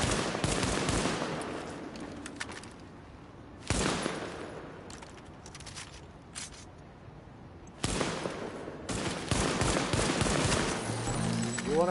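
Gunfire in the video game Tom Clancy's The Division comes as loud, close bursts of rapid shots separated by quieter stretches, including pistol fire, with faint voices mixed in.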